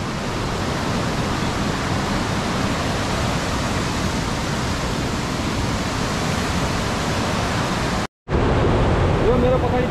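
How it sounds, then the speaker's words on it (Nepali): The Bhatte Khola, a mountain river at around 1960 metres on the Gosaikunda trek, rushes loudly as a steady broadband roar, close by, briefly cut off near the end before resuming. "यो मेरो पछाडि देखिरहनु भएको चाहिँ यो भट्टे खोला हो।"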